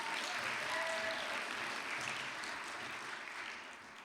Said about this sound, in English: Can we please get a round of applause for 3 really good sports and plank champions?